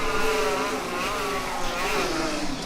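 Combustion-engined Gdansk Formula Student race car running an autocross, a steady high-pitched engine note with shifting rev harmonics rising and falling continuously at moderate distance.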